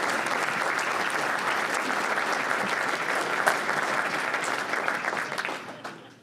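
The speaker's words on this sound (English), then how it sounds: "So if you guys stand up a second and put a little round of applause." A round of applause from the audience at a mayors and managers forum, a full, even roar of many people clapping that holds steady and then fades out near the end.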